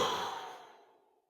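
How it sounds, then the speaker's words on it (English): A long human exhale at the end of a guided deep-breathing exercise, one steady breath that fades out gradually over about a second, close and soft with no talking. "A really big inhale. Fill up your lungs. Inhale. Top it off."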